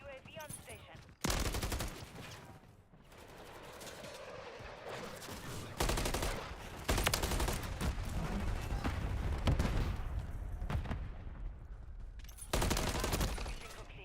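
Heavy gunfire from the video game Call of Duty Modern Warfare 3: dense, loud bursts of automatic fire and blasts that stop and start across the whole stretch.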